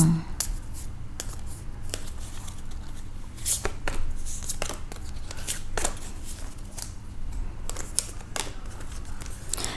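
Playing cards shuffled and drawn by hand for a lucky-number reading, a fairly close, steady run of soft riffling and papery flicks with sharper snaps scattered throughout and no talking.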